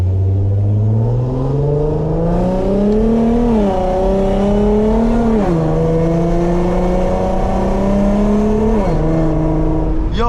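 A lowered car on Megan Racing coilovers accelerates hard, its engine note climbing steadily in pitch across three rising pulls with brief dips at each gear change, loud and close throughout with no talking.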